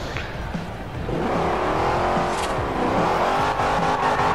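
A Shelby's engine drones steadily in Forza Horizon, close and loud, its pitch rising and falling as the car drives with no talking.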